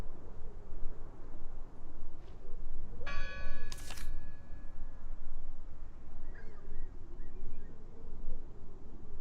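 A church bell in the horror game Draugen rings once with a bright, clanging strike that fades off slowly, sounding at a moderate distance over a steady bed of hissing wind and ambient noise.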